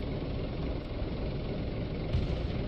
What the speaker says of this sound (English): I hear a loud fucking engine noise.